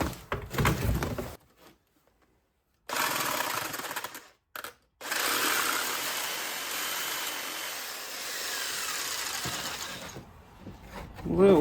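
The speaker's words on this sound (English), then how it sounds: "So instead, I'm going to use my jigsaw." Jigsaw cutting homemade exhaust gasket material, a rough buzzing cut in short bursts with pauses and gaps, then one long steady run of sawing close by.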